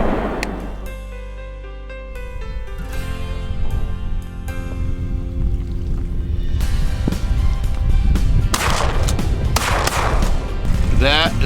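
Shotgun blasts at Barrow's goldeneye ducks on an Alaska duck hunt, loud sharp reports over wind and a boat engine, with voices shouting around the shots.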